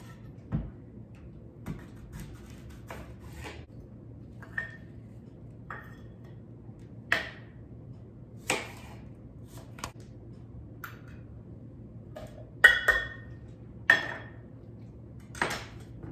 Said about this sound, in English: we'll be adding 1/2 cup of green apple, so I'll chop that up now